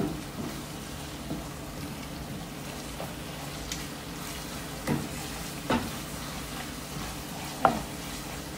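Chili garlic sizzles steadily in a frying pan while a spoon stirs it, with soft scraping knocks now and then over the constant frying hiss.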